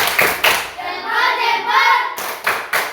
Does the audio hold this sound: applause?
yes